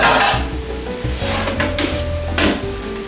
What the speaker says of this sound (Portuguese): quando ele começar a secar, ele vai começar a fritar